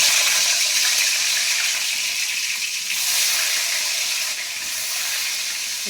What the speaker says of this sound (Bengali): পটলগুলো ভেজে নেব ভালো করে